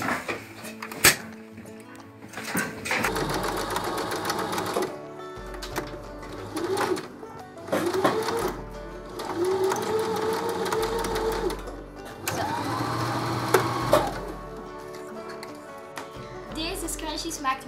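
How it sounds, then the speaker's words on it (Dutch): A sewing machine stitches fabric for a scrunchie, running in several loud, close bursts separated by short pauses, with a person speaking at points. "En dan stop je het onder het naaimachine."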